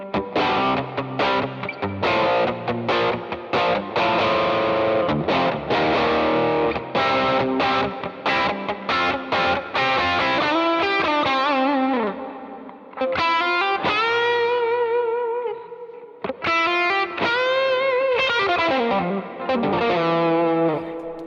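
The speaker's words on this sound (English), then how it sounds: "let me see what happens if I turn on the bright switch." Electric guitar through an amp with the bright switch engaged, heard alone in a continuous, fairly loud run of strummed chords and picked lead lines with distortion and effects, briefly pausing near the middle.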